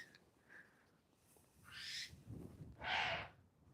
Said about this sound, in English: So Fluffy is a tawny owl.